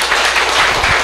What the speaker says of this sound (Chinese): 那也再次掌声谢谢瑞泉跟阿达